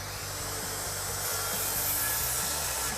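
A hand saw cutting a board laid across a 5-gallon bucket, with rhythmic back-and-forth rasping strokes at a steady pace, close and clear.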